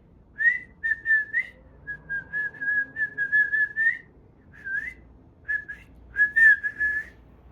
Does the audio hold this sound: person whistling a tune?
yes